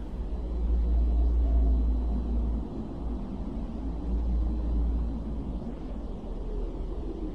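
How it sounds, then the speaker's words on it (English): Space recording of Earth's sound: a deep, continuous low rumble with a hissy wash over it. It swells and dips gently throughout and has no distinct events or voices. "These are the sounds of the very planet we inhabit."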